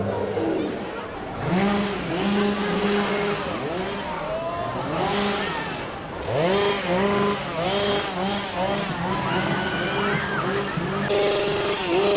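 A chainsaw engine drones and revs up and down repeatedly, loud and close, with voices talking over it, at a Halloween horror attraction at Universal Studios Japan.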